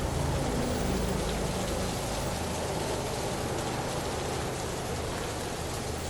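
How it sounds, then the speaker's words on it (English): Heavy, steady torrential downpour from Hurricane Milton on International Drive near Universal, Orlando, roaring without pause, a dense wash of rain hitting surfaces with no voices. "As you can see, it's torrential rain there at the moment."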